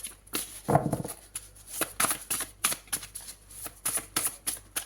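Tarot cards are shuffled by hand in a steady run of crisp riffling and slapping bursts, close and clear, with no talking over them.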